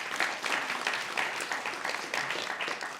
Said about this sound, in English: a round of applause for all of our volunteers at Guide